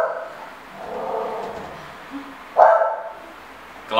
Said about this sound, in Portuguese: ele está latindo, pedindo, implorando para participar desse vídeo